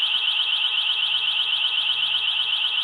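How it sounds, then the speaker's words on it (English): An ABUS security camera's alarm siren, set off manually, sounds a steady high-pitched electronic tone with rapid pulsing warble, continuous and fairly loud, with faint handling noise underneath. "you can then set the alarm off manually"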